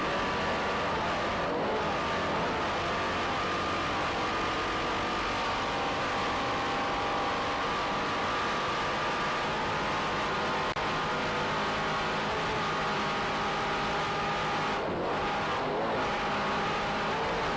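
Offshore powerboat racing engine from a B-class race boat rounding a turn off Fort Lauderdale in 1993, a steady, loud droning roar holding constant throughout with no talk.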